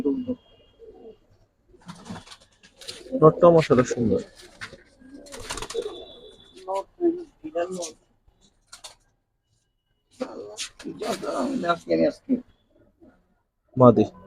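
Beji pigeons coo in bursts close by, soft throaty calls coming and going while people talk over and between them.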